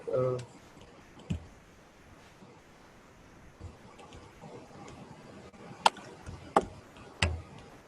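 A computer mouse clicks on an icon in Google Classroom: four or five sharp, isolated clicks spaced irregularly over quiet room noise, with a brief low voice at the start.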